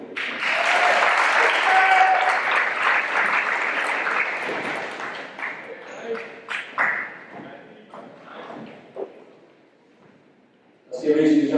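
Loud audience applause fills a football banquet hall, gradually thinning into scattered claps before a voice starts speaking at the end.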